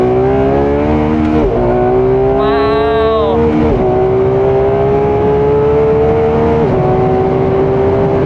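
A Ferrari race car engine howls on the track at Clark Speedway, loud and close from inside the car, holding high revs with rising pitch and brief dips at gear changes, under a constant roar.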